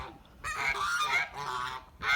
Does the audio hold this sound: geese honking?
yes